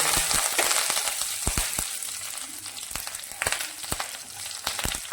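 Mustard seeds, cumin and curry leaves crackle and spit in hot oil, a continuous sizzle with irregular sharp pops throughout, close and alone.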